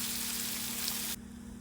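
Onions sautéing in a pan until brown: a steady, faint, close sizzle with an even hissing texture that cuts off abruptly near the end.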